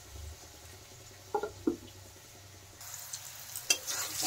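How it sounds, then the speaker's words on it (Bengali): Mushrooms frying in a pan give a low, gentle sizzle broken by a few sharp scrapes and clinks of stirring, quiet and close. "মাশরুমগুলো প্রায় ভাজা হয়ে আসছে, জলটাও টেনে গেছে মাশরুমে"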